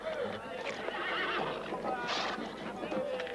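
A horse neighs with a drawn-out whinny, mixed with hoof clatter and a busy background of voices and crowd noise.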